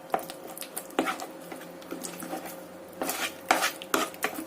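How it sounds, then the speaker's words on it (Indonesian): A spoon scrapes and clinks against a bowl while a pumpkin bread dough mixture of flour, yeast, salt and vanilla is stirred by hand, giving repeated close wet knocks and scrapes with no talking. "Kemudian kita aduk rata kembali ya"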